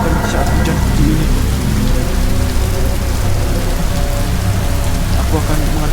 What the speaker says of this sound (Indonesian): Apa yang kamu lakukan di saat hujan seperti ini?